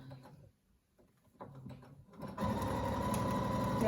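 A sewing machine stitches a fabric face mask, its motor whirring up and running steadily and close after a few quieter handling noises at the start.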